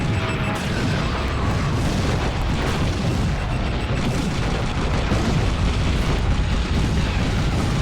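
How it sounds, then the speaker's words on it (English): Remote bombs blast in Twisted Metal 4 vehicular combat, a dense, continuous roar of loud booming explosions layered with game noise, with no pause throughout. "Oh no, that's the remote bombs."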